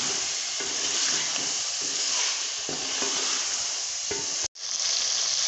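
Chicken meat seasoned with chili, turmeric, coriander powder and salt fries in a pan with a steady loud sizzle and hiss, broken by occasional stirring scrapes and a brief dropout near the end.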